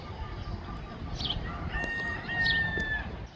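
Chickens cluck and call over a steady outdoor background, with a few brief higher bird tones; no talking.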